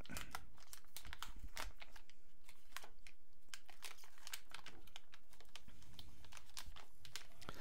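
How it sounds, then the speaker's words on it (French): The wrapper of a 495-gram Kunafa pistachio milk chocolate bar is torn open, producing close, steady crinkling and crackling of packaging with sharp tearing snaps throughout. "Alors, il s'agit d'une tablette de 495 grammes. On va l'ouvrir."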